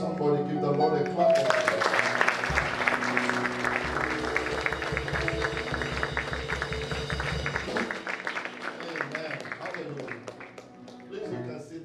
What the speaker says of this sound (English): Somebody give the Lord a clap.